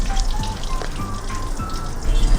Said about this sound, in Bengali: এখানে আমি কপিটা ভাজলাম সাদা তেলে, একটু সর্ষের তেল এবার আমি দিয়ে দেব।